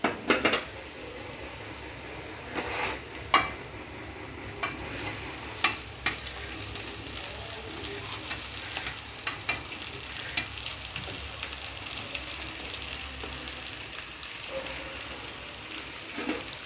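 Cooked rice for lemon rice is tossed and stirred in a hot pan with a constant sizzle. Repeated metallic scrapes and knocks of the spoon against the pan come at an uneven rhythm, close and fairly loud, with no speech.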